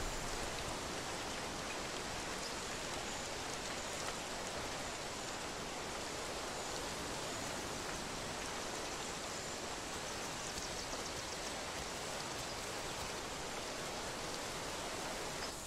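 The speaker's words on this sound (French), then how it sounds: "la pluie baissant en intensité" Steady, heavy rain pours without pause, a dense even hiss filling the whole clip.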